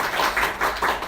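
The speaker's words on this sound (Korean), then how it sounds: "박수로 환영하겠습니다" A church congregation clapping in welcome for a visiting member during a worship service, a short rhythmic burst of applause.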